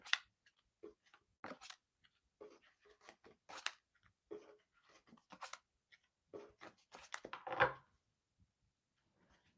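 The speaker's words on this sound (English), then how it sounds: "So just bear with me while I'm shuffling." Tarot cards shuffled by hand in short irregular bursts of crisp riffling and slapping, fairly close, with brief pauses between, no talking.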